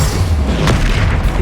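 A Confringo blasting spell goes off in Hogwarts Legacy, a loud, dense, booming blast that fills the whole short moment with no pause.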